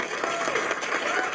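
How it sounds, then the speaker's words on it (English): A brief burst of light, polite applause from an audience, steady scattered clapping lasting just over a second. "Golf clap."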